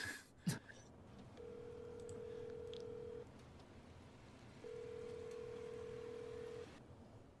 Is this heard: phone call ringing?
yes